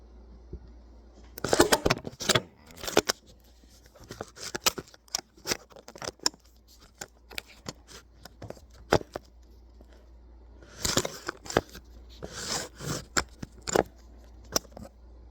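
A knife taps and chops against a cutting board while dicing already-chopped ingredients for a meat side dish, in irregular bursts of quick close knocks with pauses between.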